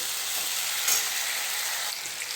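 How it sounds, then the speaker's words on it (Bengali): Ginger paste and tomato sizzling steadily in hot oil in a pan, a dense, even frying hiss held close and constant throughout, with no voices. "আদা দিয়ে আর টমেটোটা দিয়ে একটু সামান্য অল্প কষিয়ে নিচ্ছি, যাতে কাঁচা আদার গন্ধটা চলে যায়।"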